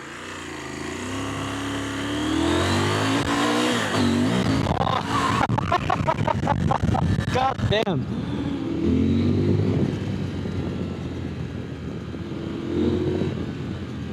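A CFMOTO Ibex 950 adventure motorcycle with a 110-horsepower engine pulls hard on the road, its engine note rising and falling through loud acceleration runs with wind rush, while the rider talks and exclaims over it.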